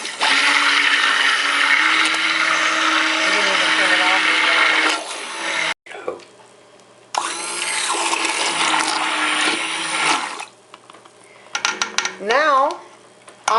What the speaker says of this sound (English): So I'm going to turn on the blender, and then we'll be back.